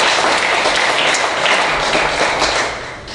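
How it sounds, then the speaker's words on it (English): Dinner guests at an Oktoberfest gathering give a loud, close round of applause, dense clapping from many hands that holds steady and then begins to fade near the end. "Let's give them a good hand of applause for"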